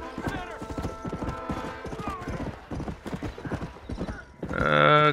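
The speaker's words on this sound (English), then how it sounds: "Caballo, no sé cómo hacer que se detenga." Horse hooves clip-clopping in the Red Dead Redemption video game, a quick steady rhythm of close, crisp hoofbeats, ending with a loud horse whinny.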